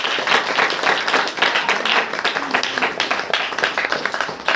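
A church congregation at a Saturday worship meeting claps together, a dense continuous spatter of many hands sustained for several seconds, loud and close, with voices mixed in beneath.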